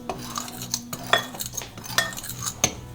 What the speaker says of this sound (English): Use a fork and mix it around